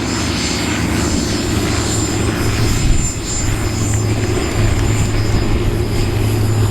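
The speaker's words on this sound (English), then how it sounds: "But actually, Peter, the aircraft out to the front." Small yellow CT4 trainer aircraft flying in formation at the Avalon airshow, a steady droning propeller engine hum held at even loudness for several seconds with no talk over it.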